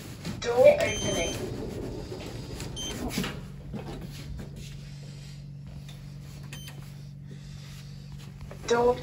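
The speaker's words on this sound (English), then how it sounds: "Door opening." Automatic doors of a modernised Kone Ecodisc lift in a Dublin shopping centre slide open with a brief mechanical whir and thump, followed by a steady low hum, with a recorded voice announcement at the beginning and a chime near the end.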